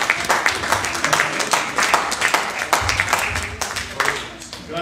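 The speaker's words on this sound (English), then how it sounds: "Give the Lord a hand clap." Church congregation clapping hands in praise: a dense, continuous wash of many hands applauding together, with voices mixed in throughout and occasional louder bursts.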